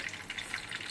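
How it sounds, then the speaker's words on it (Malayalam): Mustard seeds splutter and crackle in hot oil for a Kerala mutton curry, a brief burst of close sizzling with sharp popping, heard alone without talk. "അടിപൊളിയായിട്ട് കടുക് പൊട്ടുന്നു."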